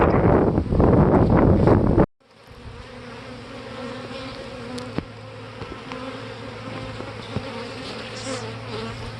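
Honeybees hum in a dense, steady drone around hives being split into two-frame mating nucs, preceded by a loud burst of wind and handling rumble that cuts off abruptly.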